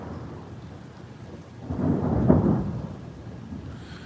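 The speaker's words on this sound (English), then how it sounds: "I bet that was a lightning bolt that started up there and struck the ground somewhere east" Thunder from a nearby lightning strike a couple of miles east during a storm, a deep rumbling roll that swells to a loud peak midway and then eases back into a steady rain-like background hiss, with no talking.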